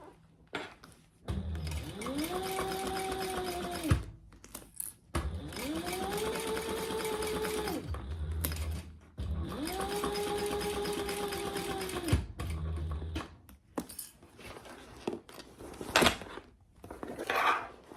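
Home sewing machine stitching the side seams of a beginner's fabric bag through two layers, three sustained whirring runs of several seconds each separated by short pauses and handling clicks, close and steady.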